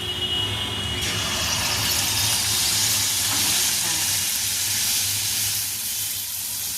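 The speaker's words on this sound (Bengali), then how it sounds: "ভালো করে নাড়িয়ে নিয়ে তেলে এবার ব্যাটারটা দিয়ে দিচ্ছি।" Malpua batter frying in hot oil over a medium-low flame, a continuous soft sizzling hiss that swells slightly after the first second and holds steady.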